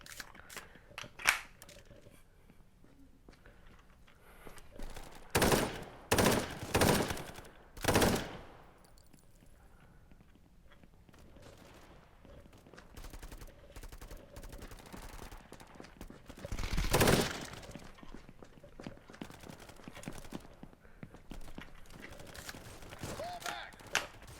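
M16 gunfire in a VR shooter game, with several loud, close bursts of rapid shots through the middle and another burst later, between quieter clicks and handling noise.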